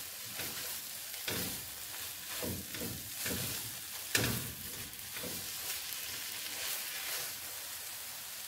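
Eggs cooked in a pan with salt and curry powder are stirred, giving a steady sizzle with a series of soft scraping strokes and one sharper clack partway through, close and moderately loud with no talking.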